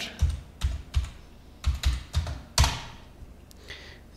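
Someone types a short word on a computer keyboard, producing about seven crisp key taps in an uneven rhythm, close up and quiet, with no voices.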